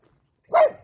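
A dog on a hiking trail near Tepoztlan, Morelos gives a single sharp bark after a brief silence, with the onset of another bark at the end, fairly close and loud.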